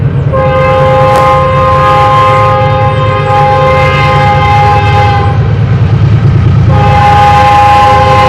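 Double-stacked intermodal freight train with a multi-engine lash-up passing close and loud, its horn sounding in long sustained chord blasts over a steady rumble of wheels and cars, with a brief pause in the horn before it resumes.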